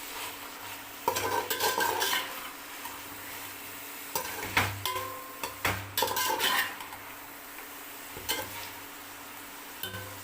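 Chicken sautéing in a pan for biryani after chili powder goes in, with a steady low sizzle beneath repeated metal spoon scrapes and clinks as it is stirred in bursts, fairly close and with no talk.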